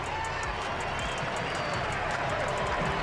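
A large football crowd roars after Germany scores against the USA, dense and loud cheering with applause that holds steady throughout.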